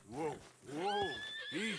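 An escaped white horse in the video game Red Dead Redemption 2 neighs in several close, loud, wavering whinnies that rise and fall across the moment.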